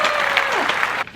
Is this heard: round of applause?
yes